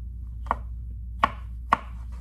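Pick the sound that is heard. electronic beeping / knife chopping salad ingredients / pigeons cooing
knife chopping salad ingredients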